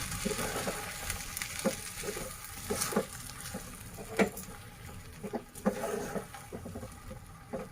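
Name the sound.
hot ghee poured into sweet milk zarda rice, sizzling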